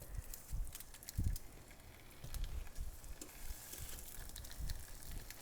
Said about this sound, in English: In a very hot skillet, high heat, enough oil to coat the bottom. What we're gonna do is sear or give our chayote a golden crust.